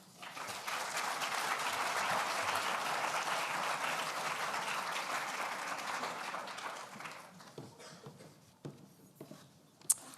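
Audience applause at a formal lecture event greets a speaker coming to the podium, a dense steady clapping that holds for about seven seconds, then thins to scattered claps and fades out.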